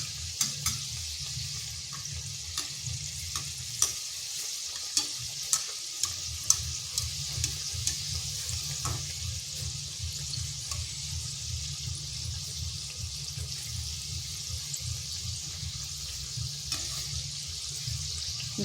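Egg and onion breakfast snack sizzling steadily in hot oil, a continuous near frying hiss with light scraping and tapping of a utensil through the first half, no talk.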